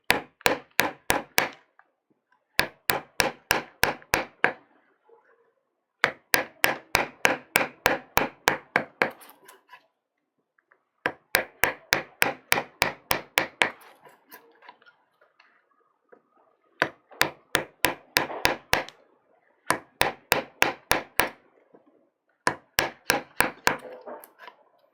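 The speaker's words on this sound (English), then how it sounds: "I'm going to be hammering, but maybe the sound will match and maybe not." Hammering during Japanese woodblock printmaking, sharp wooden taps in rapid bursts of about six to ten strikes separated by short pauses, close and crisp in a quiet room.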